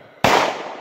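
A single loud AR-15 rifle gunshot fired with a 60-round magazine, a sharp close crack followed by a brief decaying echo.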